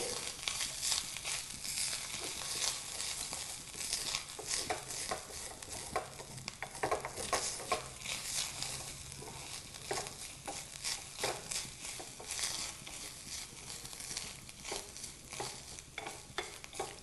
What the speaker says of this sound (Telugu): కొబ్బరి పచ్చి వాసన పోయే వరకు నూనెలో వేయించుకోవాలి